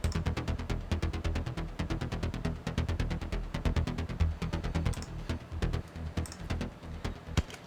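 A Sylenth synth preset plays a dry, unshaped arpeggiated bassline: a steady, fast stream of pulsing bass notes with a buzzy top end. It runs continuously and fairly quietly, with no voices.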